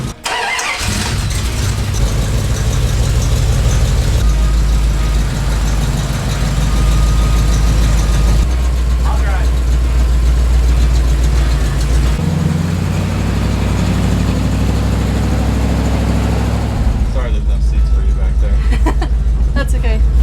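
RadCharger vehicle engine running loud and steady while driving, a deep continuous rumble with shifting pitch throughout, close up, with occasional bumps and rattles.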